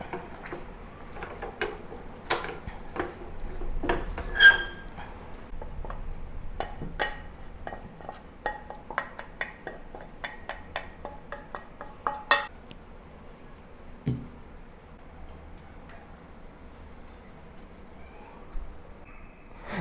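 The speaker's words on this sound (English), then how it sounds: "Mix it well with the sugar that I've added and transfer it to a serving plate." A utensil scrapes and clinks against a pan while thick, sticky Malaysian sweet soy sauce beef stew with added sugar is stirred, then scooped onto a serving plate, giving irregular close metallic taps and scrapes with little else around.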